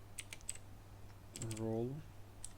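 Python code being typed on a computer keyboard: a few quick bursts of keystroke clicks with pauses between them, quiet and close, with a short voice sound in the middle.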